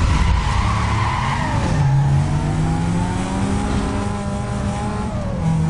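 Tires screech and skid as racing cars slide through a sprint race in Need for Speed Most Wanted, a Mercedes-Benz CLK 500 against a Chevrolet Cobalt SS, engines roaring loudly and continuously with shifting revs throughout.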